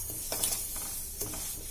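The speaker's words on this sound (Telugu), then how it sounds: "నువ్వులు వేసుకొని మంచిగా రెడ్ కలర్ వచ్చేట్టు వేయించుకోవాలి." Sesame seeds dry-roasting in a kadai give a soft, steady sizzle, broken by a few brisk scraping strokes as they are stirred, close and fairly quiet.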